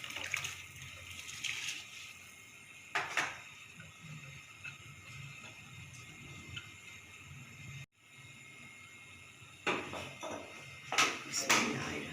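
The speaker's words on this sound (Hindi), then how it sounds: "अब मैं इसके अंदर चावल शामिल कर रही हूँ।" Rice is added to a pot of boiling water for sweet zarda, giving bursts of splashing and pouring over a steady bubbling boil, with no talk.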